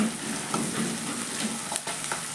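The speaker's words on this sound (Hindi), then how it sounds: "बस प्याज सोटे हो जाए" Onions sautéing in a pan after cumin, a continuous close sizzle and fry with occasional stirring clicks and scrapes.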